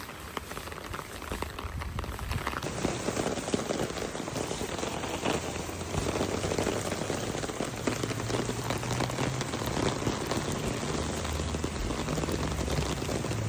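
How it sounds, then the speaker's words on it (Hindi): Rain begins falling in Pakistan, a dense, continuous patter of drops on surfaces that stays loud and steady throughout, with no talking. "बारिश शुरू हुई है"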